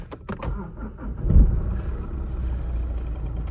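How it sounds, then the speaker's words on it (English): A Mazda 3 2.2 Skyactiv diesel with a warning light fault cranks and fires up, a short burst of starter noise giving way to a steady, fairly close idle rumble. "now let me start the car"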